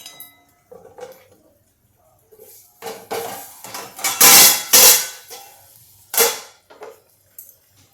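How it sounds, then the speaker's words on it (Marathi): A metal kadhai holding rice is lifted, shifted and set down, giving a series of sharp metallic clanks and scrapes, the loudest in a cluster near the middle, close and clear with no talking. "भाताची कढई जी आहे ती मी तुम्हाला दाखवायला इकडे आणते"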